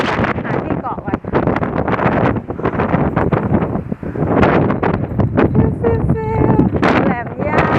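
Strong wind on Laem Ya mountain buffets the microphone in a loud, continuous roar with gusty surges, and voices talk faintly underneath.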